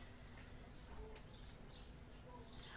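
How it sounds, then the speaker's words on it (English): Chirping birds from the ambience of the video game Supermarket Simulator, faint short calls scattered over a steady low background hum, with no one speaking. "I hear chirping birds."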